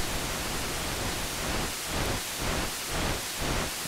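Noise oscillator of the GForce Oberheim OB-1 software synth, a loud broadband hiss like static or rain that swells and dips in a slow pulsing rhythm, alone and steady.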